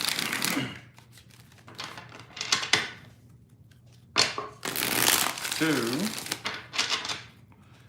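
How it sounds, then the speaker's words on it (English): Tarot cards are shuffled by hand during a card reading, in several crisp, riffling bursts separated by pauses, close and fairly loud, while a voice briefly counts. "3 shuffles here."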